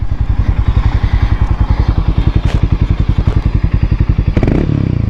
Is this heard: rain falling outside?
no